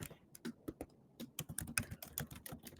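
A password being typed on a computer keyboard: quick, uneven bursts of crisp key clicks, close and fairly quiet, with short pauses between runs of keystrokes and no talking.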